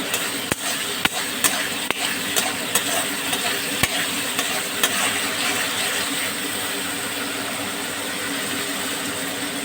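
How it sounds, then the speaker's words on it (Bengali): A spice masala with green chillies fries in oil for a chana dal recipe, a continuous close sizzle broken by regular sharp scraping clicks of the spatula stirring the pan. "মশলাটা কষতে কষতে দেখো বন্ধুরা তেল বেরিয়ে গেছে"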